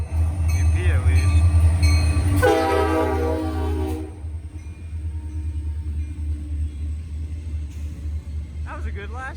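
Freight train led by two EMD locomotives passing close by at a railfanning spot, a heavy low rumble with a long loud horn blast, then fading rolling noise of the cars and another brief horn toot near the end.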